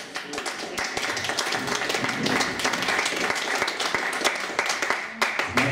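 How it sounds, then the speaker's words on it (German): A modest audience at a blues session in the Funkstation gives restrained applause, with individual claps distinct and fairly close, thinning toward the end, with some voices underneath. "der Applaus ist ein bisschen verhalten"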